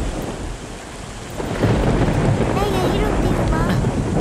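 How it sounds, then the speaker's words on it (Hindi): Heavy rain pours steadily in a dubbed South Indian thriller film scene, with deep thunder rumbling and swelling louder partway through, a dense, close storm roar that fills the whole stretch. "पता नहीं इतनी बारिश क्यों हो रही है,"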